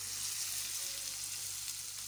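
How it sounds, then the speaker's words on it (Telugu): Hot tempering poured into carrot chutney gives a soft, steady sizzle, faint and close, with no talking over it. "తాలింపుని ఇందులో వేసేస్తున్నాను."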